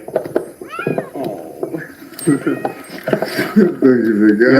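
A cat meows repeatedly near a tree during a rescue, its rising, strained cries mixing with people talking nearby.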